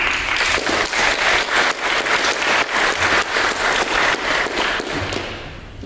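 Audience applause welcoming a panelist at a roundtable discussion, a dense, steady wash of many hands clapping that holds for several seconds and then tapers off at the end.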